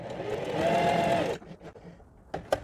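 A sewing machine stitches fabric in a fast, close whirring run of about a second and a half, then stops, followed by a few quiet clicks and handling knocks.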